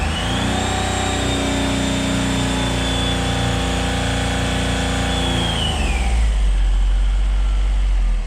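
A Smart Fortwo engine with its intercooler removed idles with a steady, loud, close hum and a faint whine that rises and then falls away. It settles into a deeper, rougher rumble for the last couple of seconds.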